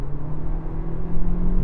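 Inside a new Toyota Prius under hard acceleration, the CVT gearbox holds a steady droning moo at constant revs, a low sustained hum that swells slightly toward the end.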